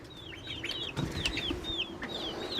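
A flock of ducks crowding in to be fed, with busy overlapping quacks and calls nearby, steady and fairly loud, with no speech.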